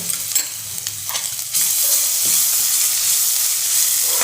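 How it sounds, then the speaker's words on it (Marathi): Paste of ginger, garlic, cumin and chili hits a hot pan and fries with a loud, steady sizzle after some brief stirring and clatter, close by and with no talking. "एक चमचा आलं लसूण जिरे आणि मिरची पेस्ट आहे ती घालूयात"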